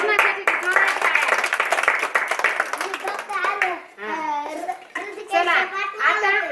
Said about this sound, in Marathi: कृष्णासाठी जोरात टाळ्या